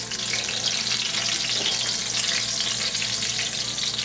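Samosas frying in vegetable oil give a steady, loud, crackling sizzle with continuous bubbling and no voices over it.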